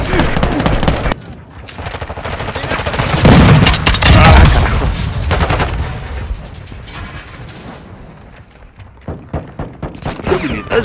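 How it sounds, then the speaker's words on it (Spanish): Gunfire from Call of Duty: Modern Warfare II comes as loud, dense bursts of automatic fire and heavy booming blasts that rise to a thick roar, then thin out to scattered shots near the end. "Se sigue nomás disparando."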